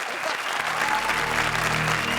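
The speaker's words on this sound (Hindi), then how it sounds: "जोरदार तालियां अली और अश्विनी के लिए।" Loud, continuous applause from a comedy show audience for Ali and Ashwini, dense clapping sustained throughout with a low crowd murmur underneath.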